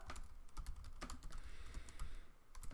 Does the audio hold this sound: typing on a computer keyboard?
yes